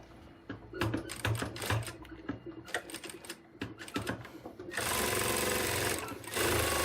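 Sewing machine stitching the seams of a handmade hedgehog crossbody bag, with bursts of close, rapid mechanical whirring and pauses between runs, then a steady sustained stretch of stitching near the end.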